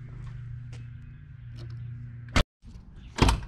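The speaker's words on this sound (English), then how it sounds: "just to see if it tears it when we close the door" Car door of a Fox Body Mustang fitted with bolt-on subframe connectors shutting with a sharp, solid thump, followed by a brief rattle and rustle, with a low idle-like hum underneath beforehand.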